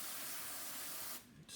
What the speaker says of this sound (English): spray it with some contact cleaner, and then wipe these by hand